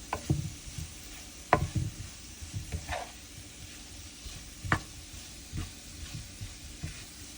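Prawns (chemmeen fry) crackle and sizzle in a pan at home, a moderate frying hiss broken by several sharp stirring knocks and scrapes, close up with no talking.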